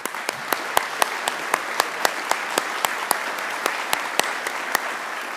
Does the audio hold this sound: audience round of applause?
yes